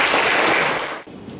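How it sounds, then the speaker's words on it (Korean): A conference audience at a startup investment forum applauds a presenter, steady dense clapping that fades out abruptly about a second in, leaving a quiet room. "오늘 첫 번째 발표를 아주 훌륭하게 마무리해주신 김태준 대표님께 큰 박수 부탁드리겠습니다."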